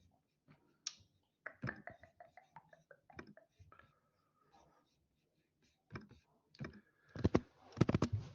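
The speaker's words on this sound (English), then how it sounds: "just typing away" Keys clatter on a computer keyboard in quick, uneven bursts of clicks, quiet and close, with pauses between runs and a faint murmur of voices in the background.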